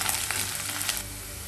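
Garlic sizzles and fries in a pan for a tuna pickle, a steady close hiss with a few brief scraping stirs, no voices.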